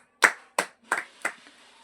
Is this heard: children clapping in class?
yes